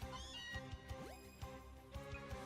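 A cat Pokémon cries in Pokémon Let's Go Eevee, a short rising meow-like call heard over looping game music with a steady rhythmic beat.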